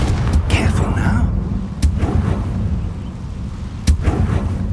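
In Hogwarts Legacy, the Confringo blasting spell lands as a few sharp explosive booms over a low rumbling game background, with a spoken voice in the mix before and between the blasts.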